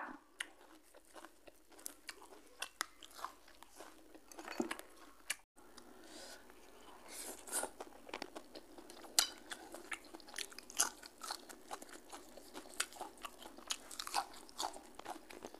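Biting and chewing crispy battered fried mussels, with close, steady crunches and wet chewing repeating throughout and no talk over them.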